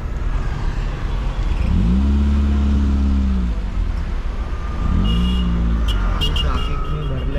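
Cars creep through heavy road traffic near Mangaon, with engines rising and falling in two slow swells over a steady rumble. A few brief clicks come near the end.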